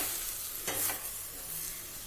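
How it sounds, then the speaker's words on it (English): A pot of Russian borscht simmers with a soft, steady bubbling hiss, and one brief scraping swirl of a spoon stirring partway through, quiet and close. "Mix it nicely and allow it to cook."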